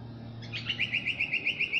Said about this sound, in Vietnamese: chim hót hay thế